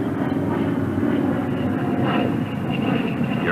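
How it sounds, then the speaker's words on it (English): Steady, loud drone of a Republic P-47 Thunderbolt engine throttled back on landing approach, a continuous rumbling roar with no pauses. "You're coming in for a normal 3-point landing."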